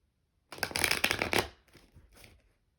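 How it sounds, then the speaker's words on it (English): Tarot cards are riffled and shuffled up close in a quick, crisp burst, followed by a softer second round of card handling. "That was the last shuffle."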